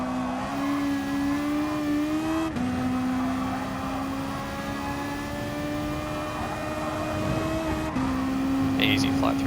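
A Gr3 race car engine at Bathurst in Gran Turismo Sport drones at high revs with a steady tonal whine, briefly dipping at two gear shifts before climbing again, with a voice talking over it.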